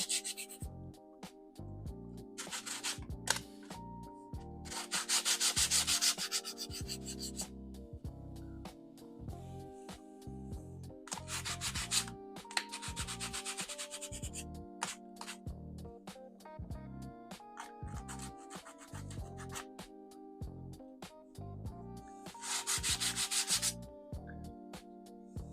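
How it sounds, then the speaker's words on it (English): Foam sidewalk coated with dried concrete paste is lightly sanded, giving steady rubbing strokes that come in loud bursts between quieter passes over a low repeating background. "Just lightly sand it and get off some of these high spots."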